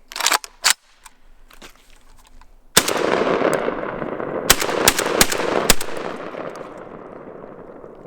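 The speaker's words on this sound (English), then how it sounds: "That time it shot fine." Shots from a JTS M12AK-T1 AK-47 style shotgun ring out close and loud: a few sharp blasts early, then a heavier report followed by several more evenly spaced shots over a lingering outdoor rumble.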